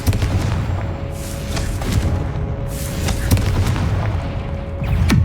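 Confringo fire spell explosions in the video game Hogwarts Legacy, a string of loud, booming blasts about a second apart over a continuous rumble of game sound.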